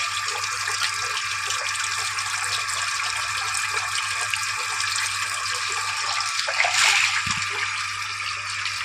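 Pieces of freshly cut fish are washed in water in a village setting, a steady close wash of running, splashing water with occasional drips and a brief louder splash near the end, no voices over it.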